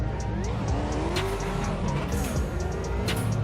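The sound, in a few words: car driving in a drift simulator video game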